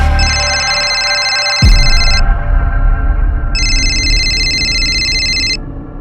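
A telephone rings in two bursts of bright electronic trilling, separated by a pause, over a loud low rumbling background.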